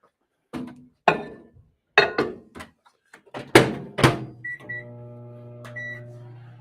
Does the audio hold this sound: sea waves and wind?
no